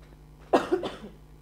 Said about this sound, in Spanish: disculpen que estoy con tos